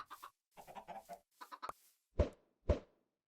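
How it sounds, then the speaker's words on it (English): Chickens in Minecraft give short clucks, a quiet run of small clucks followed by two louder, sharper clucks spaced about half a second apart, with nothing else heard. "We got a little chicken army forming."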